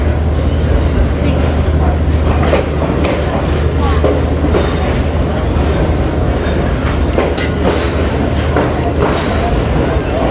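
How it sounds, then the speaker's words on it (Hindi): A passenger train rolls past at Attock City Junction in Pakistan, a loud, steady, close rumble of wheels and carriages with rhythmic clatter running throughout. "देखो लोकोमोटिव।"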